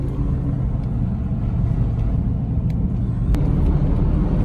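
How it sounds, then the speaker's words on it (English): Lifted camo limousine on its first test drive, a steady loud low engine and road rumble heard from inside, continuous with faint clicks and rattles, no talking. "taking a first test drive on the limo, lifted limo for Seek One"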